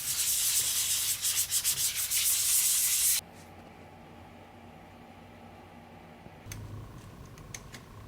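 Close, hissing strokes of 500-grit paper sanding a Mercedes-Benz 560SL center console between coats, lasting about three seconds before stopping abruptly into a quiet room hum with faint ticks.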